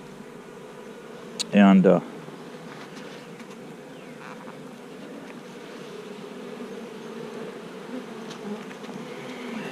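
Honeybees buzz during a beehive frame inspection, a low continuous drone close by, with a brief louder rustle or thump near the start and someone speaking a single word early on.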